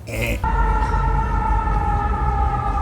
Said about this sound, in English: the loud sirens at night